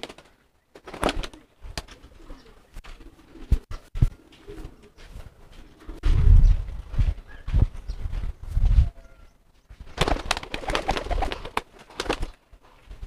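Young pigeons in training, with bursts of wing flapping and fluttering and low cooing at close range, coming in irregular clusters separated by quieter stretches.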